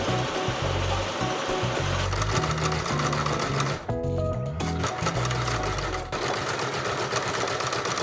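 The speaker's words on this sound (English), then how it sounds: "So let's get to sewing." A sewing machine runs in steady loud bursts as it stitches a summer dress, pausing briefly midway before the needle resumes its rapid continuous whir.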